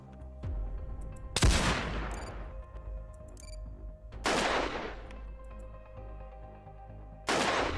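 Gunfire in the Reign of Terror video game, three loud sharp shots spaced a few seconds apart, each with a ringing decaying tail over quiet game ambience.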